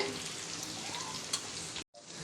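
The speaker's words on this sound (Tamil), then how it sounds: "வெங்காயமும் பச்சை மிளகாவும் கட் பண்ணி வச்சுருக்கோம் இதை ஆட் பண்ணிடலாம் இது நல்லா வதங்கி வரட்டும்" Onions and green chillies sauté in oil for banana stem poriyal, giving a dense, continuous close sizzle that cuts out abruptly for a moment near the end before resuming.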